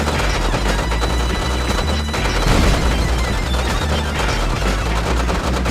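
Soldiers in Red Alert 2 fire continuous machine-gun bursts at a crippled, derelict Grizzly battle tank, a loud unbroken rattle of gunfire with occasional heavier impacts.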